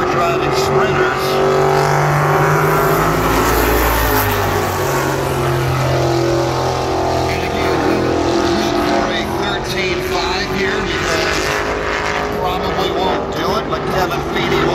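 Super modified race car engine roaring at full throttle during qualifying at Berlin Raceway, a loud, steady, sustained drone with shifting pitch as the car laps; a commentator talks over it throughout.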